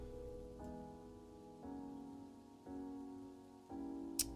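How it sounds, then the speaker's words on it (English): Gentle, steady rain patters softly beneath slow, sustained Nier Automata music, whose chords shift every second or so, with a brief sharp tick near the end. "Near Automata with gentle rain to help you relax."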